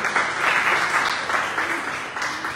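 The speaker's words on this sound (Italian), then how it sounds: "facciamo un applauso" A church congregation applauds in a short burst of steady, moderately loud clapping from a crowd.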